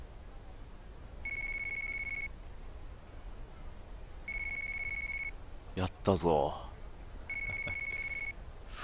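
A phone rings in Yakuza with a call from Hasegawa, heard as three steady electronic beep bursts about a second long, evenly spaced apart. A short spoken exclamation breaks in between the second and third rings.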